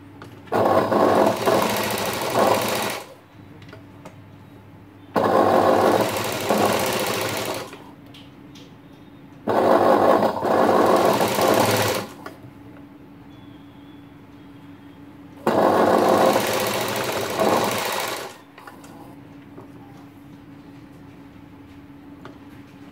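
Sewing machine stitching the border of a blouse, running in four steady bursts of about three seconds each, separated by short pauses with a faint hum between them. No voices.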